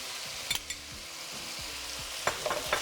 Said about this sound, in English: Then we'll fry it off in there.